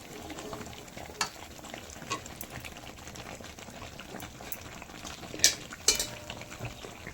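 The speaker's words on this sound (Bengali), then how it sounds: "একটু নাড়াচাড়া করে নিচ্ছি, মাংসের সঙ্গে কপিগুলো মিশিয়ে নিচ্ছি এখন" Meat and fried purple cauliflower stirred together in a pan, a steady low sizzle under scraping and a few sharp clinks of utensil against metal, no voices.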